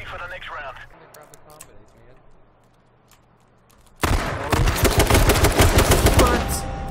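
Dense, loud automatic gunfire in a video game erupts halfway through and keeps going, after a quieter opening with some soft background sound.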